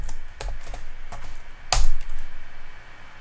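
Fingers type on a computer keyboard while setting up a Raspberry Pi Zero 2 W, producing a loud, close run of irregular key clicks with one sharper, heavier keystroke near the middle.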